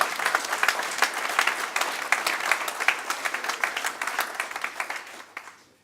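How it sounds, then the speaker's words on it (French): An audience at a French political gathering breaks into applause, a fairly close and even patter of many hands that holds steady, then gradually fades away toward the end. "Si vous pouvez applaudir."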